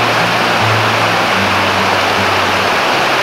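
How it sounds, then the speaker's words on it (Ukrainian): Probiy waterfall in the Carpathians roars loud and close, a dense, unbroken rush of falling water with a faint low hum underneath throughout. "Ми знову на водоспаді."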